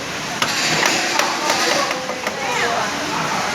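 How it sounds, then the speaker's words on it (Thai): Metal tapping on a pen workpiece to seat it tightly before drilling its holes: several sharp, close knocks at irregular intervals over a steady broadband background hum. "ยังไม่แน่นเท่าไหร่ก็อาจจะมีการเคาะนะครับ"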